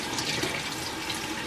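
Warm water runs steadily from a tap over a plastic popsicle mold holding frozen strawberry lemonade popsicles, a close, continuous broadband gush with no talk.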